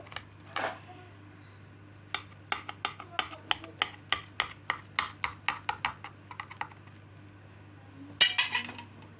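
Cutlery scraping and clinking against a dish while a potato gratin is cut, in a quick series of sharp metallic taps and chinks, close and moderately loud with a few louder clatters.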